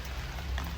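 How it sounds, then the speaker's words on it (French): Heavy rain in New York, a dense, even hiss of drops spattering on surfaces, steady and fairly faint, with no voices. "Il pleut tellement fort aujourd'hui."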